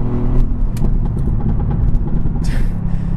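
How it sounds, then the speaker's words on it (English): A tuned 2018 Mercedes-AMG GT R's M178 bi-turbo V8 rumbles loudly nearby with a deep, burbling idle and a brief rev, heard alone without talk. "this is the M178. It's a bi-turbo V8."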